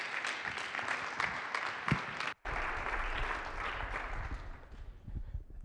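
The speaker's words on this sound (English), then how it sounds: "Let's give him a round of applause." Audience applause greets a returning alumnus as he walks onto the stage at a Kansas City entrepreneur meetup: a dense, steady patter of many hands that cuts out for an instant midway, then resumes and gradually thins.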